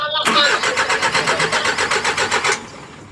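A car engine cranks without starting: a loud, close, rapid rhythmic churning of the starter for about two seconds, then it cuts off, leaving only a low background hum.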